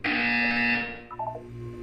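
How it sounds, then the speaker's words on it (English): A harsh, loud buzzer from the Portal 2 video game blares steadily for about three-quarters of a second, then cuts off, leaving a quieter electronic hum with faint tonal blips. "You will hear a buzzer."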